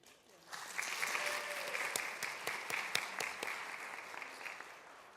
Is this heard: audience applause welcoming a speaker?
yes